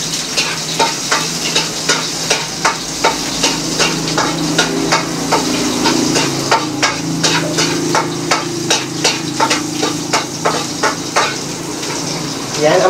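Onion and garlic sizzle steadily in a hot pan while cooking pinakbet with pork, with a near, continuous frying hiss broken by repeated sharp clinks and scrapes of a utensil stirring against the metal pan throughout.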